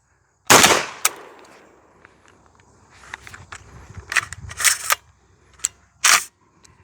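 Several close, loud shotgun blasts from a Hatsan or JTS shotgun firing clay loads, one sharp shot followed by an irregular cluster of reports and a final pair, with faint handling clatter in between.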